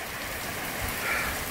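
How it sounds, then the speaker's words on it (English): Heavy Florida rain pouring down in a dense, steady hiss of drops striking hard surfaces nearby, loud and unbroken with no voices. "We get halfway into the detail and it starts pouring down rain."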